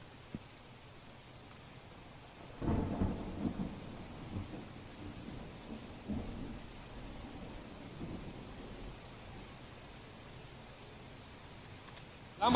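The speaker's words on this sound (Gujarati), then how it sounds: "અમદાવાદના પાલડી વિસ્તારના દ્રશ્યો છે કે જ્યાં અત્યારે મન મૂકી અને વરસાદ વરસી રહ્યો છે" Heavy monsoon rain pours over the Paldi area of Ahmedabad as a steady wash, with a deep thunder rumble rolling in near the start and fading slowly while the downpour continues, followed by a sharp crack at the very end.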